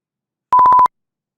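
Electronic beep tone, five or six short identical pulses in quick even succession, loud and clean against silence.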